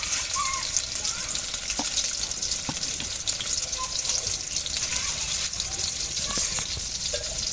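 Crab pitha frying in hot oil topped up with fresh oil, a dense continuous sizzle and hiss heard close up, with a few small clicks and light clinks scattered through it and no voices.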